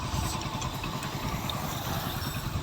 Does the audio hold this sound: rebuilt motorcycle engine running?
yes